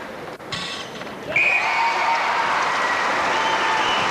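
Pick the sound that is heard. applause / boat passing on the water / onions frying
applause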